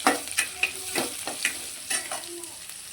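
Onions, green chillies and curry leaves frying together for a Mangalorean beetroot sabzi, a close, quiet sizzle broken by repeated scraping stirs of a spatula in the pan.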